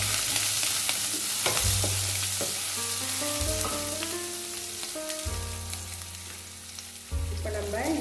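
Curry leaves with crushed ginger and garlic hit hot oil in a pan, giving a loud, steady sizzle with stirring clatter and a low hum underneath, a fresh burst of spitting near the end; no one speaks.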